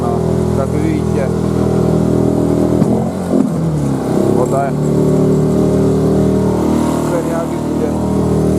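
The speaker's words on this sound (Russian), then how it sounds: "То мотор поднимается, то винт, что-то, трава наматывается, все надо вычищать." An outboard motor on a boat on a taiga river drones loudly and continuously, with a brief clattering dip midway, while someone speaks over the engine noise.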